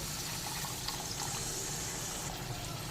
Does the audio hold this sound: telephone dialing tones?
no